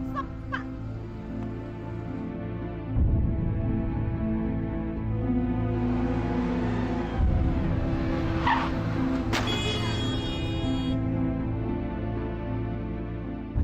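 A taxi pulls up and brakes, its engine steady under a busy tonal background before a brief screech of braking tires.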